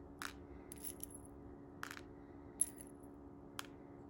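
Small plastic Aquabeads balls being handled, a few sparse light clicks and rattles at irregular intervals over a quiet background.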